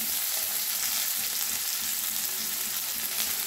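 Onions and garlic fry in hot mustard oil in a wok, giving a steady, close, crackling sizzle with no talking.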